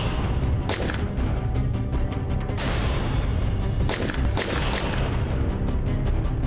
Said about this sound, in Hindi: और मैंने रोहित को गोलियों से मार दी।